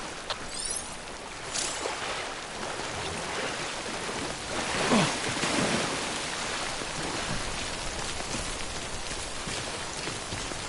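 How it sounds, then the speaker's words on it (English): Steady broadband rain hiss of timefall in the video game Death Stranding, a continuous wash of falling drops that swells slightly in the middle, with no voices. "Don't stay out in the rain any longer than you have to."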